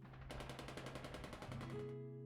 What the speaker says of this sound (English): Yep, it's gunshots.